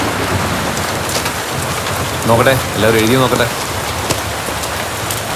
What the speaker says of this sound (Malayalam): ഓ മഴ തുടങ്ങിയല്ലോ സാറേ